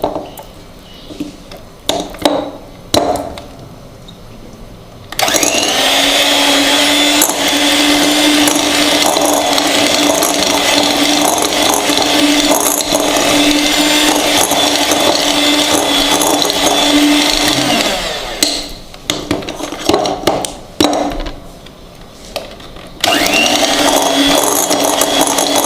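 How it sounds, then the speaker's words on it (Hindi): Electric hand beater whipping 100 grams of salted butter in a bowl for biscuit dough, a loud steady whirring drone that runs for long stretches, broken by brief stops and restarts. "सबसे पहले बटर को हम बीट कर लेंगे अच्छी तरह।"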